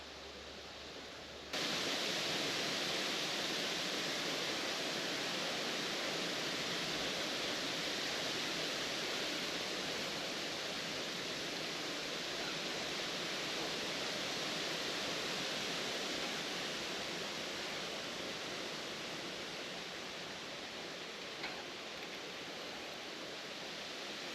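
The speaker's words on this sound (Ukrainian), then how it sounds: "Ось вона десна, дивіться, як тече" The Desna river flows in a steady, broadband rush of moving water that starts abruptly and continues unchanged and fairly loud, with no voices.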